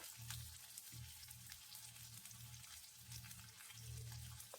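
Onion frying in hot oil with cumin and mustard seeds for an Uttar Karnataka dish, a soft steady sizzle broken by low, rhythmic stirring pulses, quiet and close with no talking.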